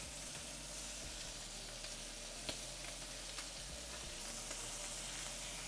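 Chicken sizzles steadily in a pan just after being flipped, a dense continuous frying hiss with faint crackles and a few small ticks, heard up close and without talk.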